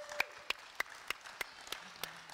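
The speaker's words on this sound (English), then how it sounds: "So please, a round of applause to invite them all on stage" Faint, evenly spaced hand claps in a steady rhythm, like a small audience applauding at a distance as panelists are invited on stage.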